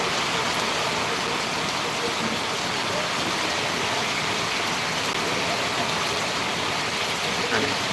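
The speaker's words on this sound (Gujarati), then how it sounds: "વરસાદ હારામ હારો ચાલી રહ્યો" Thick, loud downpour hisses continuously without any letup, close and enveloping.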